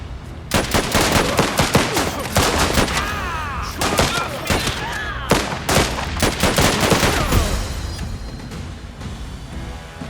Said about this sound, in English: our machine gunner is gonna blow them down